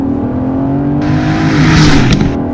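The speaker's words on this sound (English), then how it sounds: "Listen to that V8." A 2018 Aston Martin DB11 with a twin-turbo V8 revving hard in manual mode, a loud close engine note climbing in pitch with a rising rasp over a couple of seconds.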